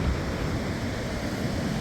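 Ocean waves of about six or seven feet break on the shore during a rainy spell, a constant loud roar of surf mixed with wind buffeting the microphone.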